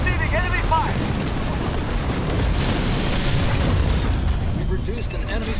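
An enemy structure blows apart in Halo Wars 2 with a deep, sustained booming roar, steady and loud throughout, as a voice talks over the rumbling debris.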